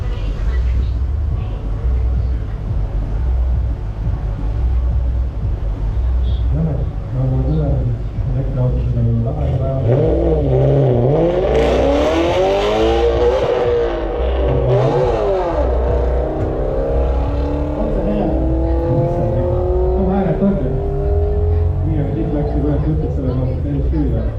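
An Audi A4 at a one-mile street acceleration challenge revs and accelerates, its engine note climbing through rising sweeps over a constant loud rumble, with voices talking at times.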